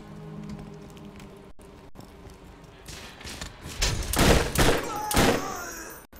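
Rapid bursts of video game gunfire, loud and crackling, arriving in two clusters in the second half after a quieter stretch of background game sound.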